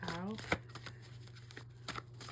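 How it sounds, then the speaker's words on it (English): Tarot cards are shuffled close by in quick soft riffles and flicks with a few sharper snaps, while someone speaks over the shuffling. "Let me just shuffle."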